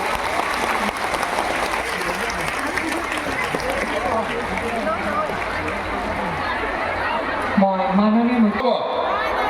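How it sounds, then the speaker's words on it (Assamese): A large audience at a women's entrepreneurship scheme cheque distribution ceremony in Barpeta applauds steadily to welcome a speaker, dense clapping throughout, with a voice rising over it near the end. "তেখেতক হাত চাপৰিৰে আদৰণি জনাবলৈ সকলোকে অনুৰোধ জনাইছো"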